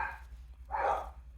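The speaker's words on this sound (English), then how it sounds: "my dogs are barking." Dogs barking somewhere nearby in a home craft room, a short muffled burst of barking rising after a brief pause, fairly faint over a low steady hum.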